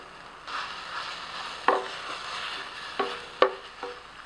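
Vegan beef pieces and green peppers browning in a pan, a gentle continuous sizzle with a few light clicks and taps of a utensil scattered through, close by and free of speech.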